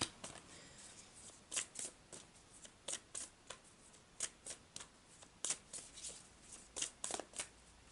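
Oracle cards from love-themed decks being shuffled by hand, a close run of quick papery riffles and slaps in an irregular rhythm with no talking.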